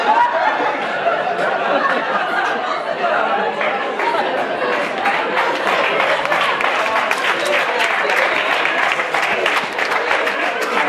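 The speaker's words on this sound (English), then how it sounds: "I'm not sure why you're clapping your hands." A conference dinner audience applauds continuously, a dense wash of clapping that builds toward the end, mixed with crowd chatter and scattered laughter.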